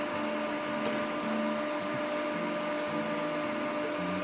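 A sewing machine stitches an EDC organizer with a continuous, even mechanical whir and a low rhythmic chatter throughout, close and fairly loud, with no voices.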